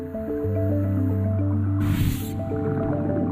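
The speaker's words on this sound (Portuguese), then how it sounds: "A baleia então expele a água de volta para o mar" A whale expels a mouthful of seawater back into the sea while holding krill in its mouth: a brief rushing, splashing gush of water under a steady musical score.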